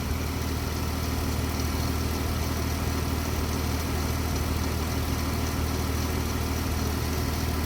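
A Ram 1500 pickup engine idles steadily with a constant low rumble and vibration, close and continuous throughout, with no voices over it.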